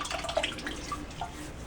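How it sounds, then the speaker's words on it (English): Hot water running from a tap into a bathroom sink, a soft, steady trickle and splash with faint drips, close by and unaccompanied by speech. "Fill up my sink here with some hot water."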